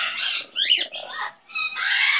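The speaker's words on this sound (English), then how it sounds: "You're such a good bird" A pet bird named Romie gives a series of sharp, squawky calls and whistles close by, in short bursts separated by brief pauses, with no talking over them.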